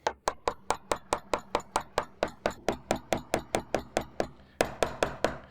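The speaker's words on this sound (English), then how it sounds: "we now go in a bit, missing the plastic lip with the chisel." Steady series of sharp chisel strikes cutting into a plastic KeyKeg, about twenty evenly spaced, loud, close hits with a brief pause near the end before a few more.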